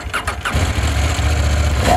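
A CFMOTO 800MT adventure motorcycle engine starting up close: a brief starter whir and a few cranking pulses, then the engine catches and settles into a loud, steady low idle rumble.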